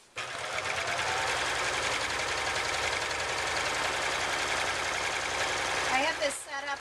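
Serger running continuously with a very short stitch length as it sews a wave stitch around a gentle curve at a quilt's edge, a steady close whir that stops abruptly near the end.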